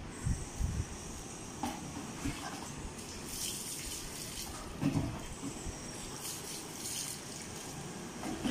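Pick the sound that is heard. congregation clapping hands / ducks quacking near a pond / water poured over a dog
water poured over a dog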